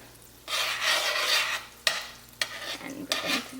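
Melting butter is stirred around a pan on the stove for mac and cheese, a close, continuous scraping and sizzling swish followed by a few sharper knocks of the utensil against the pan, no talking.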